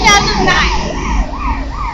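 An emergency vehicle siren wails on a busy London street near Buckingham Palace, loud and close, with a rising and falling tone repeating over traffic noise and brief voices.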